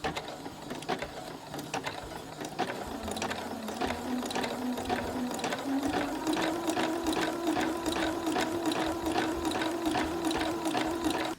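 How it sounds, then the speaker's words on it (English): A sewing machine zigzag stitches along the fraying edge of bias-cut fabric, producing a close, rhythmic clatter of rapid repeated mechanical ticks that speeds up slightly and keeps going steadily without talk. "I'm doing a zigzag where the fabric is fraying"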